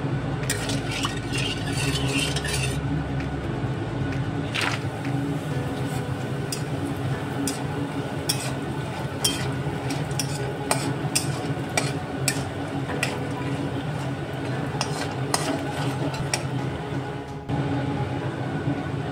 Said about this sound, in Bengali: বড়িটা ভাজা হয়ে গেছে